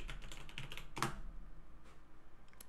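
Keys clatter on a computer keyboard as a folder name is typed, a quick run of close, crisp clicks with one louder strike midway and a few scattered taps trailing off near the end, no voices.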